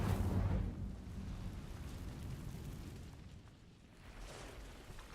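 An Incendio fire spell erupts in Hogwarts Legacy, a strong whooshing burst of flame at the start that settles into a sustained rumbling roar, swelling again briefly toward the end.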